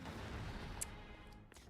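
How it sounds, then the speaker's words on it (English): Explosion in a Mario Kart World game, heard as a loud, dense rumbling blast with crackling debris that fills the short clip, with a sharp pop near the middle. "I'm gonna walk away from the explosion"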